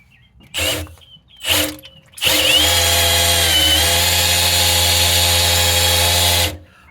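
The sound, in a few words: power drill spinning an old distributor to prime an oil pump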